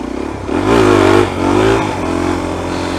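Suzuki DRZ400 motorcycle engine revved hard twice from idle, two loud close surges rising and falling before settling back to a throbbing idle.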